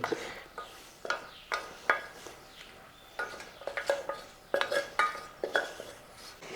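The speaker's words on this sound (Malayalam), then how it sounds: "ഇനി ഒന്ന് ഇളക്കി കൊടുക്കാം" Mung dal curry being stirred in a cooking pot, with a series of light metallic clinks and scrapes of a spoon against the pot in an irregular rhythm, close and fairly quiet.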